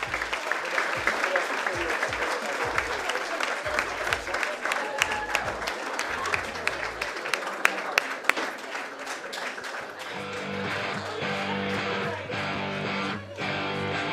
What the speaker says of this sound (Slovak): Takže veľký potlesk pre našu Miss Universe 2014.